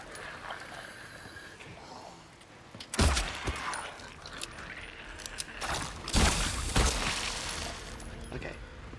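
Bursts of gunfire in the video game Silent Hill 2 Remake, loud broadband blasts around three seconds and again near six seconds over a low, murky game ambience.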